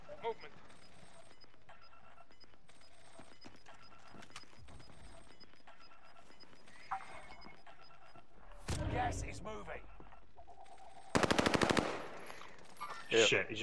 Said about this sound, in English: he just shot from the right